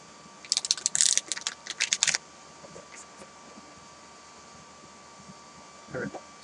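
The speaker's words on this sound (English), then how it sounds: "one more shuffle and we're ready to go." Batman Fluxx playing cards being riffle-shuffled: a rapid burst of crisp flapping clicks lasting under two seconds, then a few scattered taps, close by in a quiet room with a faint hum.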